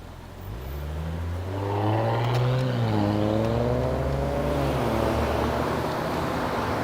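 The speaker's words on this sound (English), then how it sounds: "It's always comforting to hear the rumble of a giant truck behind you when you're on a little thing like this." A cement mixer truck rumbles close behind an e-scooter on a Toronto street, a loud low engine drone that builds and holds steady with shifting pitch, alone without talk.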